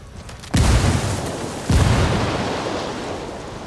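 Frag grenade explosions in Ghost Recon Wildlands Ghost War, two heavy booming blasts about a second apart, each followed by a long rumbling decay, loud and close.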